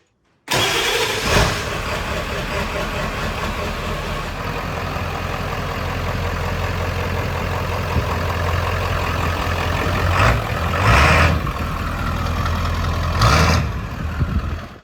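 A 1995 Ford OBS truck with a 7.3-liter diesel cranks and starts, then settles into a loud, steady idle with a deep rumble as it pulls out of a shop, with a few brief revs near the end.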